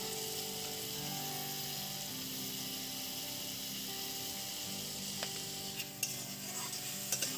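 Potatoes and curry masala are stirred and sautéed with salt in a frying pan, a soft continuous sizzle with scraping spoon strokes and a few sharper clinks of utensil against the pan near the end.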